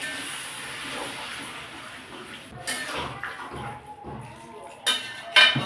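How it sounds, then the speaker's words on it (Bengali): Water pours into a pan of mixed vegetable curry, a steady running splash with a few clinks of the pan toward the end. "এবার পরিমাণ মতো জল দিয়ে দেবো।"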